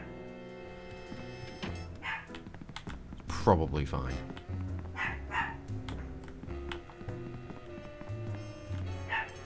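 Dogs bark in scattered bursts amid steady keyboard typing, with someone talking briefly over the clatter.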